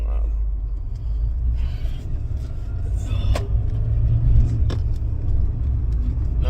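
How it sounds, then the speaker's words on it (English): A car engine rumbles loudly while driving, a steady low drone with road noise and a few brief clicks and rattles from inside the cabin, no talking over it. "My car's getting loud."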